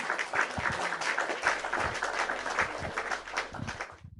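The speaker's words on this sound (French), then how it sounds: "des applaudissements bien mérités" Steady applause from an audience at a talk, a dense patter of many hands clapping at moderate distance, fairly quiet and continuous, with no one speaking over it before it cuts off.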